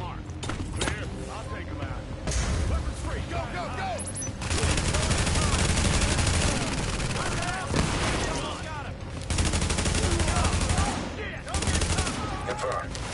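Sustained bursts of video game gunfire in The Division, loud and close, swelling into heavier volleys in several waves over dense combat noise, with occasional voices in the mix.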